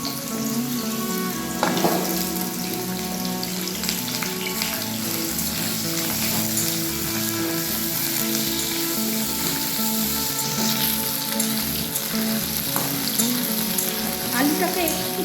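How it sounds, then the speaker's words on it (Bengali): Potatoes fry in hot mustard oil in a heated wok, giving a loud, continuous sizzle with crackling bursts and occasional stirring scrapes close up, while a steady low hum runs underneath. "তেলটা গরম হয়ে গেছে, এর মধ্যে আলুটা দিয়ে দিলাম।"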